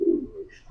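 A single soft, low coo from a racing pigeon, brief and close, fading quickly into quiet.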